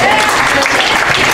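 A school audience gives a round of applause for visiting marching band performers, steady dense clapping that fills the whole short stretch, close and loud, with voices mixed into the crowd noise.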